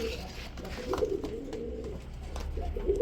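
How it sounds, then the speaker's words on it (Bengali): Mushaldom pigeons cooing at close range, soft low coos coming in a few short bursts over a murmuring background. "এই যে বন্ধুরা দেখেন মুসালদম কবুতর চলে আসলো।"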